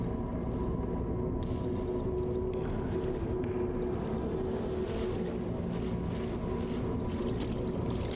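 Continuous low rumbling swamp water in the video game Darkwood, churning and sloshing with a steady dense roar throughout, like waves or a current.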